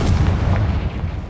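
A Confringo spell explosion in the Hogwarts Legacy video game, a loud, close, dense rumbling blast that fills the whole short moment with heavy low boom.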